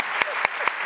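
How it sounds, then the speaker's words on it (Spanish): A few sharp, evenly spaced claps, about three in under a second, in a studio conversation about artificial intelligence. They sit over a faint tonal background. "Se merece un aplauso, por favor"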